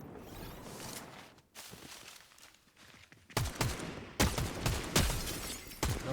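Video game replay with gunfire: a muffled, busier stretch of game sound gives way to several loud, sharp shots spaced roughly a second apart, close and punchy, with no one talking.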